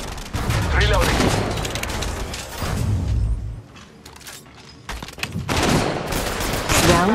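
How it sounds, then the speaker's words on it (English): Automatic weapon fire and bursts from the mobile battle royale game Apex Legends Mobile, a dense fusillade of rapid shots and booms that drops briefly mid-clip and then resumes loudly, with in-game voice lines mixed in. "They're shooting at me."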